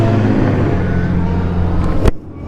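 Zero SR/F electric motorcycle pulling away under acceleration, a steady close whine and road rumble that cuts off abruptly near the end.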